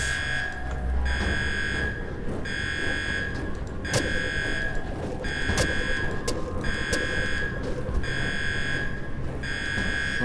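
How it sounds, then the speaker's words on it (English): Repeating electronic alarm from the video game Underrail, sounding in steady pulsed bursts of buzzing tone over a dense background of game noise, with no talk. "There's the alarm going off."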